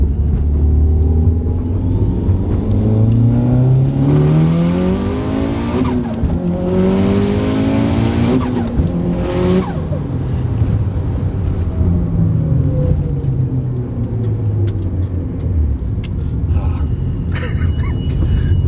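A big-turbo Mitsubishi Evo 8 with a manual gearbox accelerates hard, engine revs sweeping up through several gears with brief drops at each shift, loud and close, with whooshing turbo and some tire noise.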